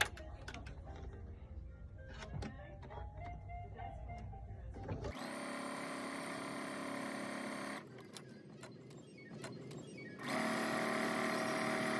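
A sewing machine stitches quilt fabric, sewing a quarter-inch seam around a square; bursts of steady mechanical whirring alternate with quieter handling clicks, close and fairly loud, with no talk over it.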